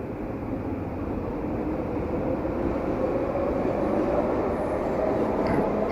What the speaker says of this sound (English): There we go, another train.